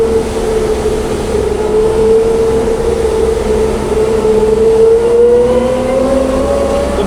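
A Chinese AUPAX combine harvester drives along a road, its engine giving a steady, loud drone with a slowly rising tone that holds the whole time, with no talking.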